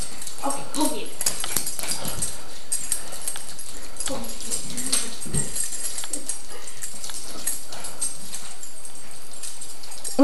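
Excited dogs scuffle, whine and growl in playful commotion, with scattered yips, thumps and clatter, and people talking intermittently over the noise.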